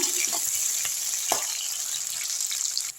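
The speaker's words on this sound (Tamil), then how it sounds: "அதுலேயே வெங்காயமும் பச்சை மிளகாவையும் எடுத்து போட்டுருங்க நான் மூணு பச்சை மிளகா போட்டுருக்கேங்க நல்லா வதக்கி விட்டுருங்க" Onion and three green chillies sauté in oil, a continuous close hiss and crackle with a few faint clicks of stirring, steady until it drops off at the end.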